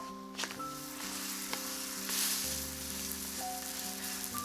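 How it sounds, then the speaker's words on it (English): Paratha brushed with ghee frying in a pan, giving a steady, close sizzle throughout with faint tonal hum and small clicks behind it. "Essentially frying it, which is why a pan might be better."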